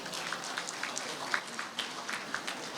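An audience at a Malaysian event applauds the director and scriptwriter, a steady mid-level wash of clapping with scattered sharper hand claps standing out, continuous throughout.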